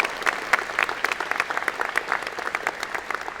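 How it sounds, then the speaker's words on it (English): Audience applause at a university engineering convocation ceremony, a moderately loud stream of many hands clapping with crisp individual claps standing out throughout. "Another round of applause."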